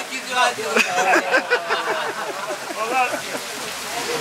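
Steady rain falling at an outdoor village wedding in Turkey, a continuous patter on surfaces with people talking over it.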